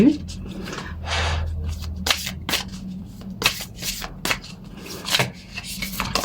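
A tarot card drawn from a deck during a spiritual guidance reading, heard as a few short papery slaps and shuffling rubs at close range, scattered between soft speech.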